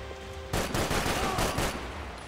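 Loud, dense gunfire bursts in Max Payne 3 erupt suddenly and continue as rapid overlapping shots for nearly two seconds.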